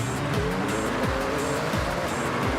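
A car sliding around in Forza Horizon 6, its engine revving up and dropping repeatedly as the tires squeal through the drift, loud and close throughout.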